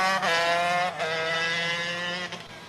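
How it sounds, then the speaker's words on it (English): 125cc ROK shifter racing karts howl past at Sonoma during a Master ROK Shifter 125 Limited race, their high-pitched engines screaming loud and close for a few seconds. "Hunter Hagenbuck takes the checkered flag for 125 shifter limited."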